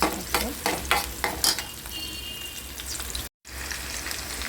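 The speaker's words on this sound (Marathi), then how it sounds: "कांदा आणि जिरं आपण भाजून घेऊया।" Onion and cumin frying in oil in a pan, with a few sharp stirring scrapes at first, then a steady close sizzle, a brief dropout, and the frying continuing.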